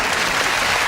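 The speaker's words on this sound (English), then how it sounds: "Don't applaud Rob" Studio audience applause on a British comedy panel show, a dense, steady wash of clapping from a large crowd, loud and continuous throughout with no talk over it.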